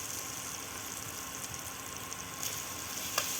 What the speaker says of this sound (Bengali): আদা আর রসুন পেঁয়াজ ভালো করে আমি একটু কষিয়ে নেব।